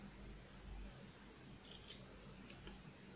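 Scissors cut a piece of paper in a quiet room, with a couple of soft, brief snips over a faint background.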